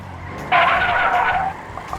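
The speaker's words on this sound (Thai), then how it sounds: "รถคันนี้ มันดริฟต์ได้" Tires squeal in a loud, sustained screech lasting about a second as a car drifts in Grand Theft Auto, the skid ending abruptly, with a faint engine hum beneath.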